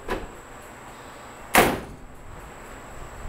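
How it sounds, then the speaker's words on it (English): A 1946 Ford convertible door shuts once with a single sharp, close slam partway through, set against quiet background hiss and no talking. "door shuts."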